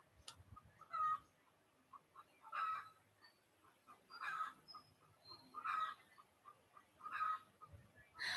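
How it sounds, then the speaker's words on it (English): A hen clucks in short, separate bursts that come every second or so, each clear against an otherwise quiet background. "Hoy, hen, stop it."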